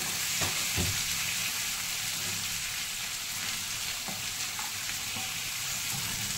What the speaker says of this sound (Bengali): এরকম খোলা অবস্থাতেই আমি নাড়াচাড়া করব